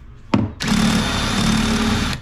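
A power drill gives a brief buzz, then whirs steadily at high speed for about a second and a half before stopping, loud and close, drilling while hanging wall cabinets.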